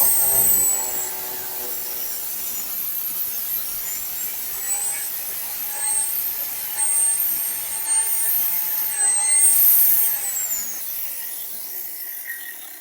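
A homemade DIY cut-off machine cuts steadily, with a continuous high whining grind and a gritty abrasive hiss that swells slightly toward the end, close and loud, with no talking.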